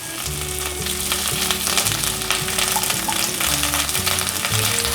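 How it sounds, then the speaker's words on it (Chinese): Bitter gourd slices pan-fry in a little oil in a wok over medium-low heat, giving a steady, close sizzle that holds at an even level throughout, with no talking. "把苦瓜放进来，一样用中小火把苦瓜煎至有点微焦"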